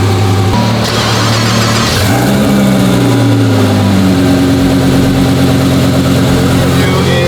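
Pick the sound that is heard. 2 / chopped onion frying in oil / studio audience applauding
2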